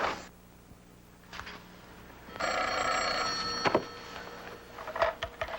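An old telephone bell rings in a couple of bursts, moderately loud and a little distant, with faint room knocks and shuffles between the rings.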